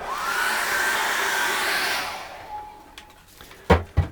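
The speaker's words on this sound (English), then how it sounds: "And we got to dry that off with a hairdryer." Steady whooshing roar of a hair dryer blowing for about two seconds, then switching off, followed by a few sharp knocks and clicks.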